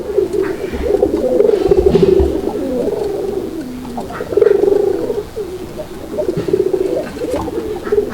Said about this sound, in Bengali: দেখেন কবুতরগুলো কিন্তু ডাকতেছে